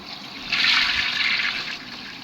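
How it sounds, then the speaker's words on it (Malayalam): A toilet is flushed nearby, a brief rushing gush of water that swells and then fades into a softer trickle. "ഇവനെ നമുക്കിത് ഫ്ലഷ് അടിച്ചു വിടാം"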